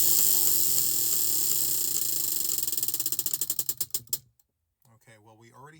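A random stitch spinner wheel for crochet spun once, a fast whirring rattle of clicks that slows into spaced ticks and stops, followed by a brief silence and then a voice speaking.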